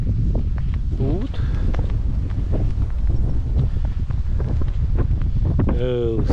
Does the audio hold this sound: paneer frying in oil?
no